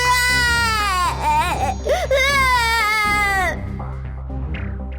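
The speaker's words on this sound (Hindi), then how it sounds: "पालने में रखते ही बच्ची जोर जोर से रोने लगी" A baby girl, just put down in her cradle, wails loudly and continuously in rising and falling sobbing cries, close and intense, with short catches of breath and no speech.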